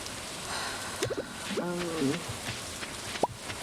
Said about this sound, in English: Oh, it's raining today.